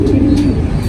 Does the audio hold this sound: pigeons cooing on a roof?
yes